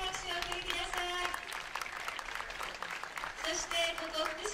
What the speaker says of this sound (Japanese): 熱い戦いを見せてくれた両チームの皆さんに今一度大きな拍手を送りください。